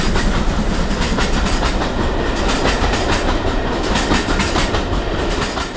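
A small tourist train passes nearby in Scotland, giving a loud, steady rumble with rhythmic wheel clatter that holds for several seconds and fades slightly at the end. No one speaks.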